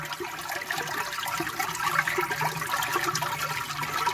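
Water flowing steadily from a mountain spring source in Amizmiz, a continuous close rushing and splashing wash that holds at an even level throughout, with no voices.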